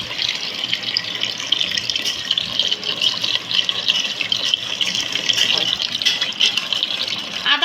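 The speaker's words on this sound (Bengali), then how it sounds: "এখন আমি এর ভিতরে মাপ মতন জল দিয়ে দেবো" Water poured over rice in a pot while making Eid pulao, a steady close gushing splash with a bright, hissy tone that runs on without a break.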